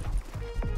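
Horse hooves clip-clop in a video game, a few muffled thuds in quick uneven rhythm, fairly faint and low against background game noise.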